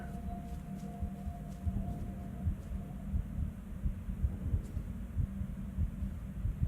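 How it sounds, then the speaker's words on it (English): Steady low thumping heartbeat pulse in the Secret World Legends video game, repeating rhythmically beneath a constant hum and a faint high tone, moderately quiet with no talking. "I hear a heartbeat when I get over here"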